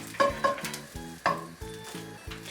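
Chicken and asparagus sizzling in a pan, a close steady fry with a few sharp clinks of a utensil against the pan.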